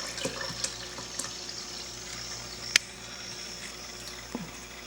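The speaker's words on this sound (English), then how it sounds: "And I'm going to dump my jar in here." Cold brew coffee poured from a jar through a cheesecloth-lined strainer, a steady soft trickle of liquid running continuously, close and moderately quiet, with a few small clinks and one sharp tap partway through, no talking.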